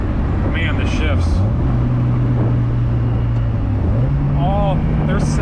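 A Mazda Miata, fresh from a transmission swap and new clutch install, drives along with a steady low engine drone that steps up in pitch twice as gears change; people talk over the engine.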